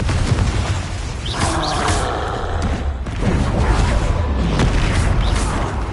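Glacius and Confringo spells cast in Hogwarts Legacy land as repeated dull booms and bursts over a busy game soundscape, with several loud impacts spread across the stretch.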